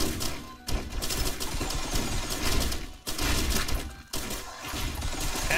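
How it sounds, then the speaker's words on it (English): Missiles launching in Risk of Rain Returns: a dense, unbroken volley of rapid blasts and crackling impacts that runs loud throughout, with a few brief dips. "Let the missiles begin!"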